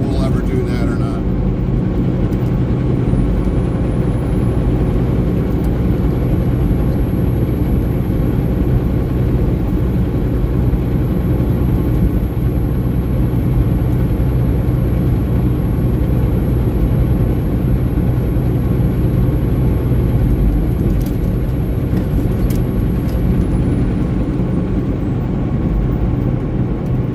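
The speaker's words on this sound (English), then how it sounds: "capturing the sound of the engine while just driving" A semi truck's engine drones steadily while driving on the highway, a loud continuous low rumble with road noise throughout and a faint high whine running through the middle.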